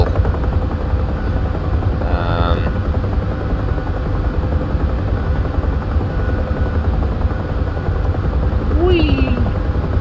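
A Huey helicopter flies low over trees and swamps in the combat flight simulator DCS, its rotor and turbine drone loud and constant throughout, with a couple of brief chirps and tones over it.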